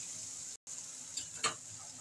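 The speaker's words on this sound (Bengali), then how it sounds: "আমি এবার অল্প করে একটু জল দিয়ে দিচ্ছি," Hot water splashing into a pan of sautéed snake gourd sets off a steady, close sizzle, with a brief cutout partway through and a couple of sharper hissing bursts near the end.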